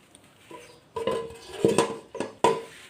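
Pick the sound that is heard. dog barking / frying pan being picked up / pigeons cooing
frying pan being picked up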